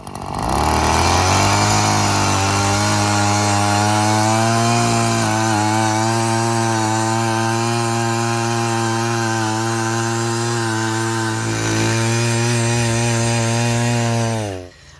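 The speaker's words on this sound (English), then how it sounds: "I would like to demonstrate how easy it is to auger a hole in the ground" A gas-powered auger drills a hole into soft ground free of roots, rocks and clay, its motor holding a loud, steady droning whine for about fourteen seconds with no voices.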